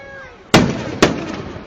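Two loud, close fireworks booms burst about half a second apart during a Fourth of July display in West Allis, Wisconsin, each leaving a rumbling decay, with faint crowd voices before them.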